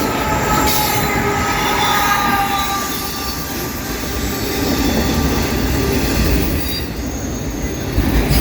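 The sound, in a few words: CSX autorack freight train passing on the Old Main Line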